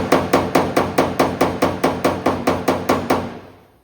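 A hammer taps down metal on a 1984 Chevrolet C10 body in a quick, even series of about fourteen sharp, ringing metallic strikes, close and loud, fading out at the end.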